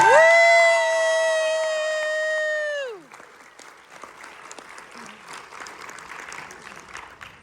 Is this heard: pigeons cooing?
no